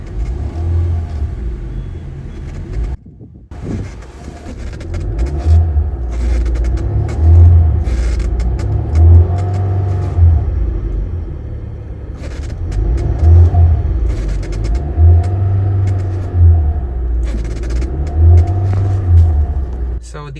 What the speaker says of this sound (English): let's give her a few revs and check how the engine sounds from the inside